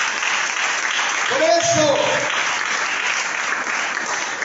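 A church congregation applauds the Lord in a steady, broad wash of clapping that fills the room, with a preacher's brief voice rising over it.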